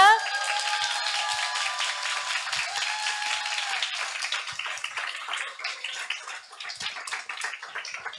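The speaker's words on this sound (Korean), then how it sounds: "큰 박수로 모시겠습니다" An audience claps warmly to welcome a speaker at a business convention, the applause loud at first and thinning toward the end, with a few electronic chime tones at the start.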